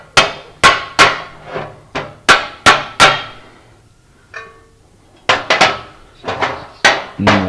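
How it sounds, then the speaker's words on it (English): Loud, ringing hammer blows strike a 1966 Chevelle's quarter panel metal in a steady rhythm, pause briefly around a quieter clink, then resume in quick, close-up strikes. "I'm going to start by trying to knock some of this metal back into the original shape"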